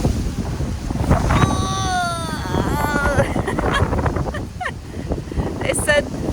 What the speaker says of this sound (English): they said up to 70-mile-an-hour winds today